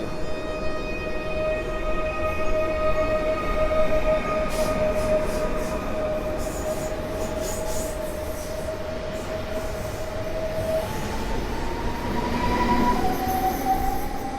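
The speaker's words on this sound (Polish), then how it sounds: "Rusza linia S3 do stacji Legionowo Piaski." An S3 line train pulls out of Warszawa Gdańska station in Warsaw, heading for Legionowo Piaski. Its steady loud rumble carries rising whining tones and a high wheel squeal, with no one talking.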